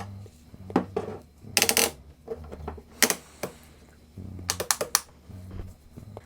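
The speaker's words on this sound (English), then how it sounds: "Love these Irwin quick clamps." Irwin quick-grip clamps ratchet and click shut against a wooden electric guitar body on a workbench, giving several close bursts of sharp clicks with gaps between them.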